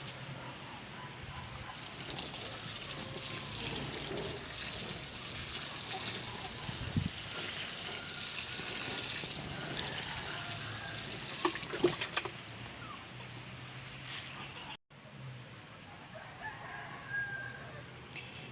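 Water trickles and splashes steadily into a stackable pot holding freshly transplanted strawberry runners. The pour is faint, continuous and outdoors, with a rooster crowing in the background and a brief break near the end.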